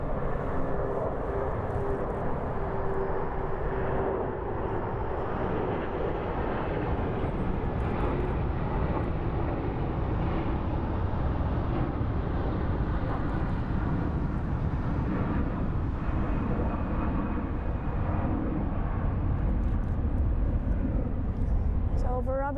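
Jet airliner taking off at Frankfurt Main Airport, a steady, loud engine roar holding throughout with a rising whine near the end.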